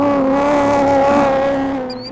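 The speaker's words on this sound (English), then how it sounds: "imagine you're in a Subaru STI powered by a Ferrari engine." Subaru STI rally car swapped with a Ferrari V8 engine on a gravel rally school course outside Seattle, its engine holding a loud, steady high-pitched drone, close by, easing off slightly at the end.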